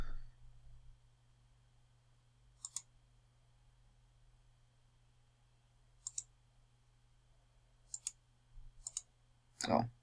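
Computer mouse clicks at a desk, a few sharp isolated clicks spaced several seconds apart, including a quick double click, with a louder handling noise at the end over a low steady hum.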